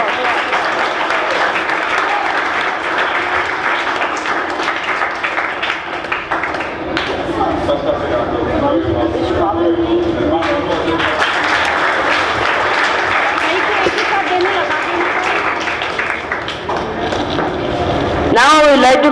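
A school program audience keeps up a long, loud wash of applause and crowd noise, with an amplified voice speaking over the clapping throughout.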